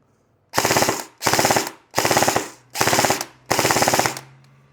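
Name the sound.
airsoft gun firing full auto with loudener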